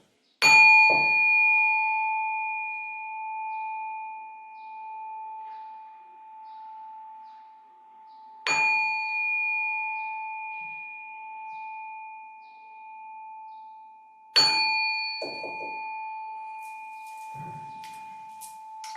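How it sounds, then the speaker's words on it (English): A meditation bell is struck three times to close a session, each strike a clear, sustained ring that decays slowly over several seconds in a quiet room. "let's close our session. Give it a few bells."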